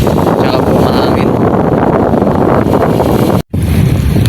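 Strong wind blows at sea on a fishing trip, roaring steadily and loudly against the microphone with constant buffeting, broken by one brief dropout near the end.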